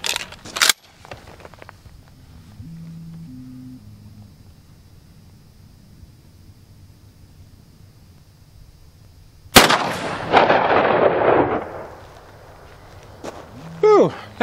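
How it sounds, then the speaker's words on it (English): A single loud blast from a GForce Arms 12 gauge pump shotgun firing a slug outdoors toward a target about 150 yards away, a sharp crack with a long rolling echo, preceded by quiet background and brief distant sounds. "I'm gonna take a shot with a slug just for the heck of it."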